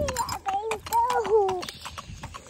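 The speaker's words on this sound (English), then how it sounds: "This horse here be 13 years old and gentle and easy to get along with." A 13-year-old gaited gelding, 15.2 hands, clip-clops on hard ground nearby, a few quick hoof strikes heard under someone talking close to the mic.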